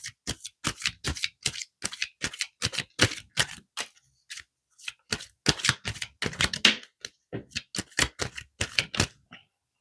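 Romance angels oracle cards being shuffled, a rapid series of crisp papery flicks and riffles in quick bursts with a brief pause midway, close up and fairly loud with no talking.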